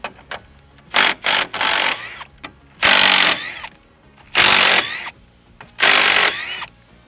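Four 10mm bolts come out of a Ford F-150 while a fog light kit is installed, heard as loud repeated bursts of a power driver whirring in short runs, separated by quieter pauses and small clicks.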